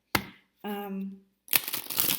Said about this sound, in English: I'm going to shuffle them up a little bit this way